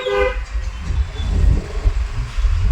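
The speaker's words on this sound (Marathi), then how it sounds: "रेडी गाडी चालवत आहे" Car driven on Airport Road in Pune on a sunny day, its engine and road noise giving a low, steady rumble close by, with a brief tonal sound at the very start.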